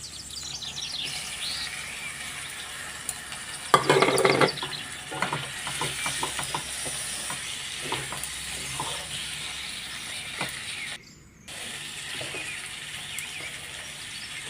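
Prawns fry in a pan with onion, ginger and garlic, a soft continuous sizzle with scattered stirring and scraping, one louder burst of frying and a brief dropout partway through.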